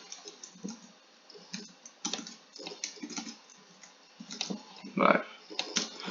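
Typing on a computer keyboard comes in irregular bursts of close, soft clicking keystrokes with brief pauses, heavier taps near the end.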